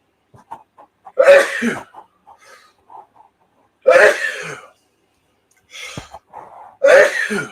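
Several sharp sneezes and throat-clearing bursts at a table, with quiet clicks and faint sounds between them.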